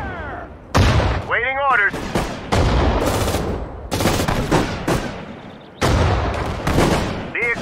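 Tank cannon blasts and gunfire boom in a World War II video game set at the Battle of Sedan, with heavy loud bursts and sustained firing. Shouted voices cut in between the shots.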